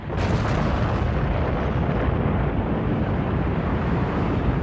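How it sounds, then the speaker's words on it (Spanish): A wall collapsing, as a sound effect on an album: a loud, dense roar of crumbling rubble that starts abruptly and rumbles on steadily for several seconds, with no voices. "cuando cae el muro..."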